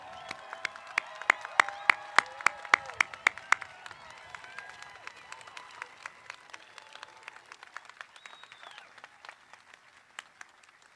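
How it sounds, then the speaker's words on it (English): Applause at a college commencement ceremony, a crowd clapping steadily with sharp individual claps standing out, loud at first and then thinning out. "And with that, one more round of applause."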